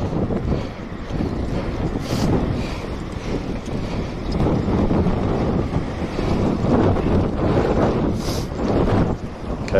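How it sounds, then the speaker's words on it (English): Strong wind buffets an outdoor microphone during a cycling charity ride, a continuous loud roar with gusting surges throughout and no speech. "Fucking wind."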